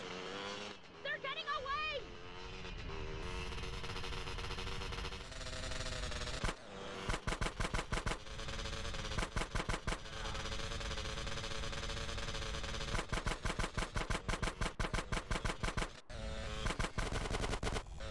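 Rapid machine-gun bursts from Carl's gun in GTA San Andreas on Android, rattling loudly and repeatedly over a steady driving engine and game soundtrack during a car chase.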